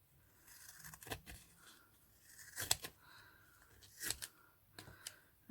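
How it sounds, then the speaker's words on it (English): Fabric scissors cutting through glitter ribbon: a few quiet, crisp snips and rasping slices spaced irregularly, close and soft with no talking. "These are my fabric scissors. Straight through, no issues."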